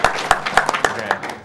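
A small cluster of people clapping at a Metroid Prime speedrun event, a few close, uneven claps in a short burst.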